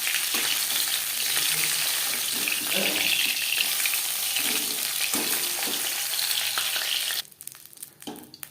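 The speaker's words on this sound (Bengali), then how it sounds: "মাছ ভাজা হয়ে গেছে" Bhola fish fries in a pan of oil with a continuous dense sizzle and crackle, occasional stirring scrapes, then the frying drops away near the end to quieter clinks and small sounds.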